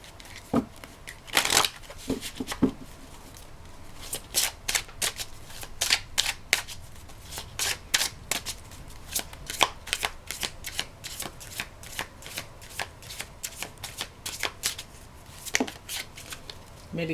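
A meditation oracle card deck is shuffled by hand up close, giving rapid, irregular riffling bursts and slaps over about seventeen seconds with brief pauses.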